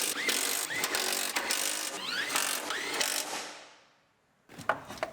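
Ratchet clicks and metallic tool noise from bolting a fender onto a Chevrolet Silverado truck cab during reassembly, a busy run of quick mechanical ratcheting that fades to quiet before one short clatter at the end.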